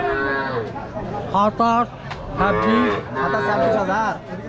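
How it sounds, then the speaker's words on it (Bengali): Cattle at a busy livestock market moo repeatedly in several drawn-out calls, close and loud, over a steady background of crowd chatter and talk. "দেখতে পাচ্ছেন অসংখ্য গরু"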